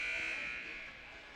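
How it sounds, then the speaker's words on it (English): A hockey game's starting buzzer sounds as one sustained, steady electronic tone that begins loud and gradually fades slightly over its length. "The buzzer is about to ring in about 3 seconds to get underway for this hockey game"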